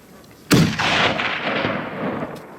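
A single loud, close rifle shot fired while hunting tahr on a mountainside rings out sharply, followed by a long rolling echo that fades across the valley.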